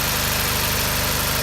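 Car engine idling roughly and unevenly, a steady close low throbbing rumble with a faintly irregular pulse and vibration, running continuously with no voices.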